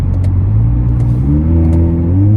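A sports car accelerates hard, its engine note climbing steadily through the revs, loud and close from start to finish without pause.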